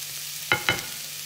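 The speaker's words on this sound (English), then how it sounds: "a reasonably high heat, but it sizzle quite nicely" Onions sizzle in a hot pan for a Spanish omelette, a steady faint frying hiss broken by two quick stirring scrapes, close up with no talking.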